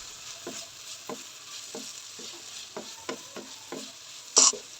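Salt, garam masala and crushed red chilli fry in a pan for a desi vegetable macaroni, with repeated soft scraping stirs over a steady low sizzle and a brief louder clatter near the end.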